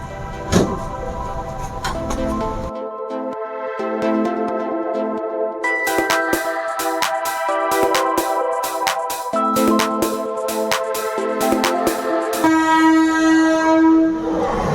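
A train sounds its horn at Vijayawada railway station, a loud sustained blast with long stretches and brief breaks over rumbling rail noise, with no voices.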